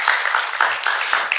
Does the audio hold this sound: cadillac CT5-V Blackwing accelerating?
no